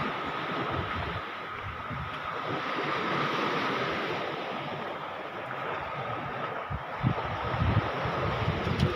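Surf washes steadily onto a rocky shoreline where rock formations line the beach. The roar is continuous and broadband, with wind buffeting the microphone and a few louder surges toward the end.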